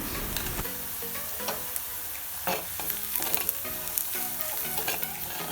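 Spices such as Kashmiri chilli powder and turmeric are sautéed in oil for Kerala puli inji, with a dense continuous sizzle and frequent scraping stirs of a spoon against the pan, close and fairly loud.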